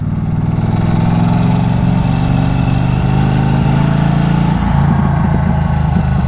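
A 2023 Norton Commando 961 SP motorcycle with standard exhaust starts with a loud rumble close by, settling into a steady, throbbing idle with a slight change in tone near the end.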